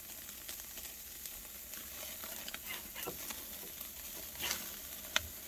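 Hamburger patties searing on a charcoal Weber grill give a steady, soft, hissing sizzle with faint pops and crackles throughout, and nobody speaking.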